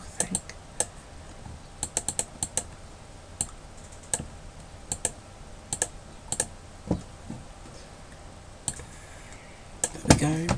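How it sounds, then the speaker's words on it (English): A computer mouse clicks repeatedly during image recoloring work, sharp isolated ticks scattered irregularly at close range, sometimes in quick pairs or runs, over a faint steady background hiss. "And left click. Right click"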